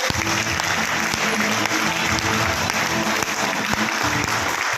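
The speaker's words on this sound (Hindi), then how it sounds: "जोरदार ताली एक बार" Loud, sustained applause from a seated audience at a business event, a thick continuous roar of many hands clapping throughout, with a low tonal hum under it.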